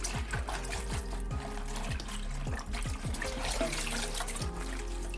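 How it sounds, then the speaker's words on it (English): Vinegar trickles and pours steadily into a basin of water for washing collard greens, a continuous close splashing with small bubbling gurgles, no voices. "pour you some vinegar in that water"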